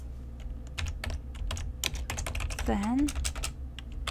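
VBA code typed on a computer keyboard in Excel, as a quick close run of clicky keystrokes in uneven bursts, with a brief spoken word partway through.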